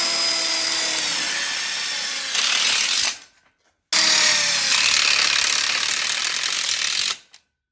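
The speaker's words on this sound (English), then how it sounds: "we're going to go ahead and lock it in with our screws" A power driver runs screws into a heavy smoker platform frame in two long bursts, each a steady, loud whirring drive of about three seconds that cuts off abruptly, with a brief silence between them.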